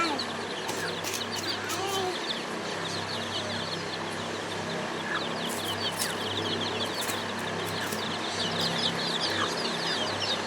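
Newly hatched chicks peep steadily among clucking hens at a home yard, the chirping faint and continuous beneath a dense, steady background wash.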